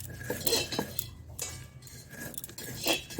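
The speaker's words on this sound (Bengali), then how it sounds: "এটা বেটে নিচ্ছি মানে গুঁড়ো করে নিচ্ছি ভাজা জিরেটা" Roasted cumin seeds ground into powder by hand in a home kitchen, heard as intermittent scraping, clinking knocks of utensils against a hard surface, fairly close and moderately loud, with no talking.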